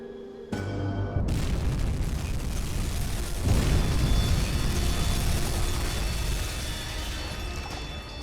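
Torpedo explosions hitting a destroyer in the Uboat submarine game: a sudden heavy boom near the start swells into a long rumbling roar, with a second surge of blast and crashing debris midway, then a slow fading rumble.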